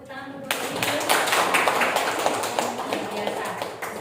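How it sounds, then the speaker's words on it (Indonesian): An audience claps steadily for Bu Eni, a dense broadband patter of many hands starting abruptly after a brief pause and continuing at an even level, with faint voices mixed in. "Mari tepuk tangan untuk Bu Eni."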